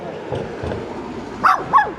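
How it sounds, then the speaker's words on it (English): A cute little dog in a village in rural China gives two short, high yips near the end, heard close over an outdoor background murmur. "even the cute little dog"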